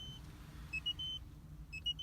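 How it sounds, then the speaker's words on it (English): Warning chimes from a 2018 Citroën C3 cabin, two short bursts of bright electronic beeps a second apart over a quiet low interior rumble. "Some beeping here."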